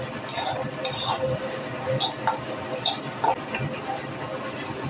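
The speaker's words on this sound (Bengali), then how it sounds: "বাদামগুলো দিয়েও কিন্তু আমি নেড়ে চেড়ে নিচ্ছি।" Nuts are stirred in a pan while cooking chop, a metal spoon clinking and scraping repeatedly against the pan in quick, irregular taps over a low kitchen background.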